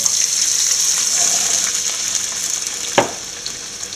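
Water is poured into a hot pan of sautéed onion and green chilli with poha roasted in ghee for aval upma; a constant close sizzle is followed by a sharp splash near the end.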